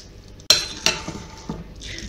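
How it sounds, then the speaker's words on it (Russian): Bean salad with mayonnaise being stirred in a bowl, a few sharp spoon clinks against the bowl followed by softer scraping and mixing sounds, close and quiet, with no talk. "Заправляем все майонезом. И тоже все по вкусу. И перемешиваем."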